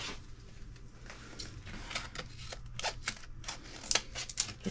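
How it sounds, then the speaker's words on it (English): Scissors snip through the plastic packaging of infusible ink coasters, a series of short, crisp cuts and rustles at close range that grow sharper and louder toward the end. "Let's see if I can grab my scissors and cut that."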